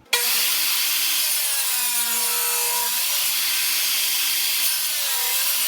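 Saw run through a crosscut sled, cutting wooden side pieces for an end table at 60 degrees: a steady, loud, continuous whine and rasp with a shifting tone, close by and uninterrupted, with no talking.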